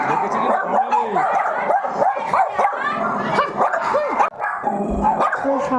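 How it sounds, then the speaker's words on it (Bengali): Several dogs bark and yip together in a loud, overlapping chorus outside a house, sharp repeated barks mixed with whimpers and high yelps over a few seconds. "ওকে দেখে সব কুকুরগুলো এরকম চিল্লাচ্ছে"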